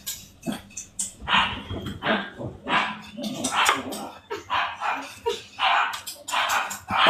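A dog barks over and over, with loud, close barks in an uneven run that carries on throughout, mixed with yips and some people talking in the background.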